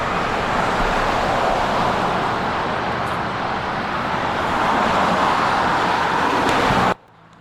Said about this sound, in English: I'm right beside a giant tractor trailer